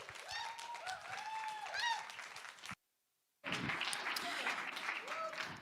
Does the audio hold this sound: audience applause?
yes